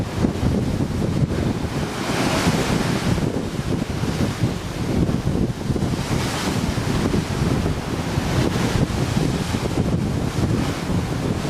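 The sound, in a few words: wind and choppy sea waves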